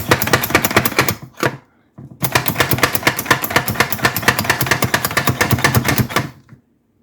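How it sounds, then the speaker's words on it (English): A Pampered Chef food chopper is pumped rapidly in a kitchen, producing a fast, loud run of plastic clacks and thumps up close. A brief pause interrupts it before a longer steady burst. "So I'm using my Pampered Chef, and I'm going to chop it that way."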